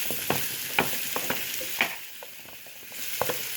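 Food in a frying pan is stirred over a soft sizzle, with a few sharp scrapes and clacks of the utensil against the pan at irregular intervals.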